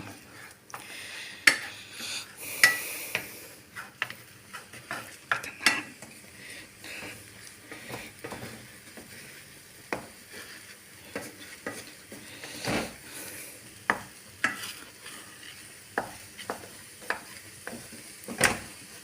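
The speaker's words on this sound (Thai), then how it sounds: "คนไปเรื่อยๆนะครับ คนด้วยนะครับ คนแบบนี้ก็ย้ายกระทะเกาะเพื่อเรียกแบบไม่ต้อง กวนไปเรื่อยๆนะครับ" A utensil scrapes and taps against a pan while stirring scrambled eggs in an irregular rhythm over a soft, constant sizzle, close by and moderately quiet.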